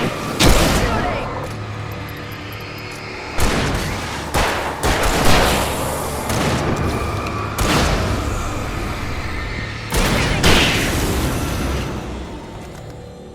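Gunfire in the video game Alan Wake Remastered: several loud bursts of shots and booming impacts break out in clusters, with a steady rumble between volleys and talk mixed in.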